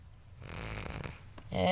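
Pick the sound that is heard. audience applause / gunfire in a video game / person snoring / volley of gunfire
person snoring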